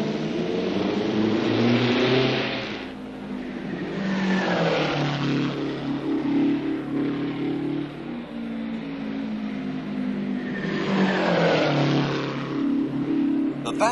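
Parnelli Jones's race car qualifying at the 1963 Indianapolis 500, a loud engine roar that swells and fades in long sweeps as the car rounds the track, its pitch shifting with each pass, with faint talk in the background.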